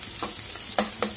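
Onions sautéing in a pan for a Tamil ivy gourd stir-fry, with a few brief scraping stirs of a spatula over the steady hiss.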